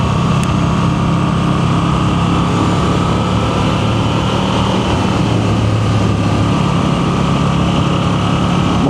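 A Moto Guzzi V7 Sport motorcycle engine running, a steady, loud drone with a deep low rumble and constant hum, unbroken throughout, close up with no voices.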